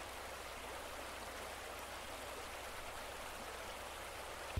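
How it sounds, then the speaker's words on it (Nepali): A mountain stream in the hills near Khadadevi on the Ramechhap–Dolakha border flows in a steady, even wash of water, faint and continuous with no voices. "अर्को खोला रहेछ यहाँ"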